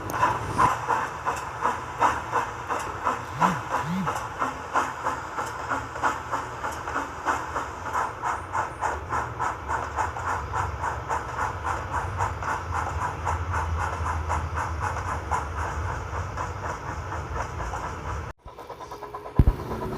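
A steam train engine in Trainz 2009 chuffs in a rapid regular rhythm, a steady pulsing exhaust beat over rail noise, moderately loud and alone, cutting off abruptly near the end.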